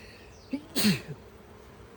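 A single short, sharp sneeze close to the microphone, with a faint intake just before it, over a quiet background hum.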